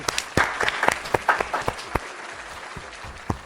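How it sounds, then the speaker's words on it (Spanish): Audience applause at a live talk event, fairly sparse and moderately distant claps with a few louder sharp hits, thinning out toward the end. "Les pido un muy fuerte aplauso para el señor Matías Botboy"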